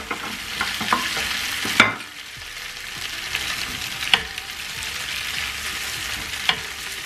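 Lamb shank frying in Rogan Josh paste in a home kitchen pan: a steady close sizzle with a few sharp clacks of a utensil stirring and turning the meat, no talking.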